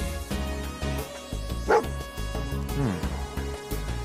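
Dogmeat, the canine companion in the Fallout 4 video game, tracks a scent with short barks and whines heard over steady, tonal in-game music.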